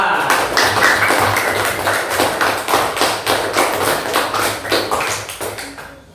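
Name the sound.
class applauding group 2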